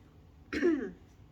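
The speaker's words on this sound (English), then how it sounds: "I have a cough. So I might cough off and on." A single short, sharp cough or throat-clear sounds close by, against quiet background.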